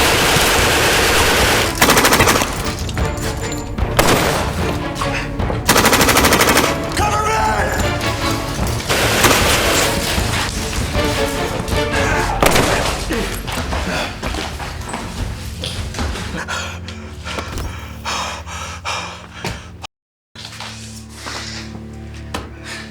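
A firefight in an English-language thriller film, with loud repeated gunshots and rapid bursts over a dense, busy mix. The action quiets near the end after a brief dropout, and voices can be heard partway through.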